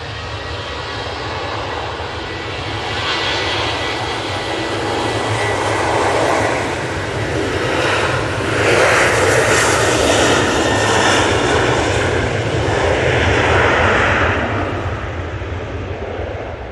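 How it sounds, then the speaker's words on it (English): A Ryanair jet takes off at Manchester Airport, its engine roar loud and steady, swelling toward the middle and then easing slightly as it climbs away, with no voices over it. "And now this Ryanair's going."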